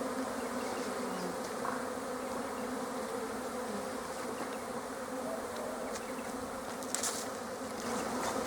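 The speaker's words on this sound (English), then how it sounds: "All the bees that are flying are worker bees, and they will fly back to the hive as quickly as possible" Worker honeybees fly around an open hive, a dense, steady buzz of many wings close by, with no talking.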